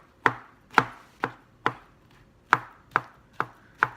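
A knife chops through shiitake mushrooms on a cutting board, eight sharp, evenly spaced thuds. The chopping is close and clear, with near silence between strokes.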